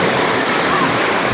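Tall waterfall at Dibulo Falls in Dinapigue, Isabela, a steady broadband rush of falling water, loud and unbroken for a brief moment.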